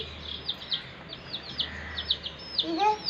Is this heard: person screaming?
no